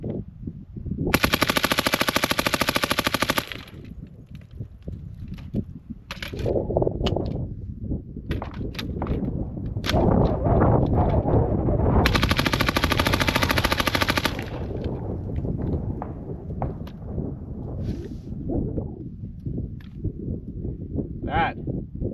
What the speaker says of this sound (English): this is going to be 2 mags at fully semi-automatic with the HITECH Arms Super Selector.